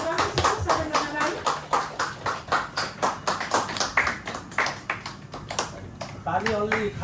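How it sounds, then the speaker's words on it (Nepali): An audience at a Nepali community annual festival ceremony in Dubai claps in a rhythmic, fairly sharp burst of beats, with a speaker's voice heard at the start and end. "सम्मान गरिदिनु होला, ताली बजाइदिनु होला।"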